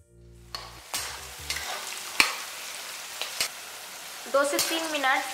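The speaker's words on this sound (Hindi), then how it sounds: "मटर डाल के अच्छे से फ्राई कर लेंगे।" Green peas for aloo matar paneer fry in a pan with a low, steady sizzle, broken by several sharp spoon clacks against the pan. A voice briefly joins near the end, and the whole scene is close and fairly quiet.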